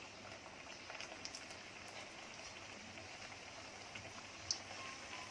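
Khajoori dough frying in hot ghee over a medium flame, giving a steady, soft sizzling hiss with faint crackles and one brief pop, quiet and close with no talking.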